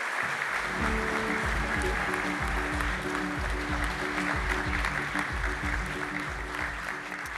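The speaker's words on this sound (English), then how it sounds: "Please give Beatrice Finn a big round of applause." Sustained, dense applause from a conference audience welcoming a speaker to the podium at a forum on banning nuclear weapons. It stays steady and full for the whole stretch, with no talk over it.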